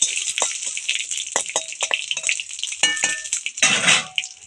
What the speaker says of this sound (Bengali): কারি পাতা ফোড়ন দিয়ে দিলাম